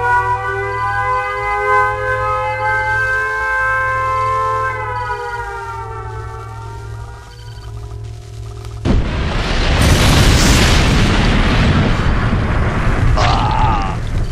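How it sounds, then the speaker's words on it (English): A loud broadband blast from a nuclear missile strike in the strategy game Red Alert 2 erupts suddenly after a sustained tonal alarm and warning tones, then rumbles on as a dense, roaring explosion for several seconds. "nuclear missile launched"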